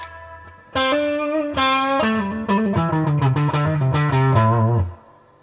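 Electric guitar through a WEM Copicat tape delay on its halo setting, a few picked notes and chords blooming into a smeared, shimmering wash of repeats that rings for several seconds before cutting off.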